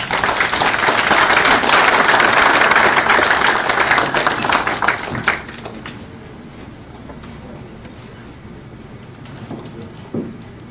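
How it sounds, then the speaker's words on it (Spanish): Loud audience applause at a university lecture, a dense burst of clapping that fades after about five seconds, leaving a quiet room with a few scattered claps. "Fuerte el aplauso por ustedes,"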